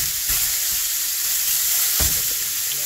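Ground turkey mince with pork fat fries in a pan with a continuous close sizzle and hiss, broken by a couple of soft stirring thumps.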